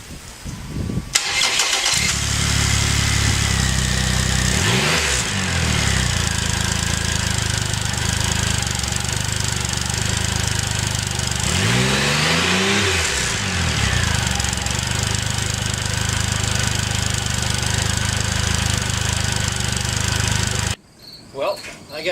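A motorcycle engine with stock mufflers runs steadily and loud for about twenty seconds, with a couple of rising-and-falling revs partway through, before cutting off abruptly near the end.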